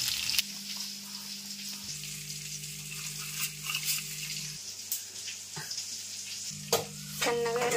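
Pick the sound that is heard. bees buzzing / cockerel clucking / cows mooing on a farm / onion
onion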